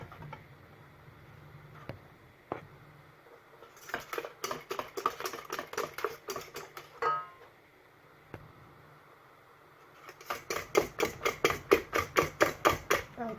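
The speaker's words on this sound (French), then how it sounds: "Le temps que le sucre y fonde aussi, on va continuer à mélanger." A Swiss meringue and sugar mixture for buttercream is whisked by hand in quick, rhythmic strokes, in two separate bursts with a quieter pause between them. The second burst is the faster and louder of the two.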